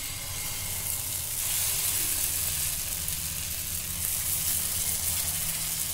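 Uttapam batter sizzling on a hot tawa, a steady bright frying hiss that stays loud and even throughout with no voices.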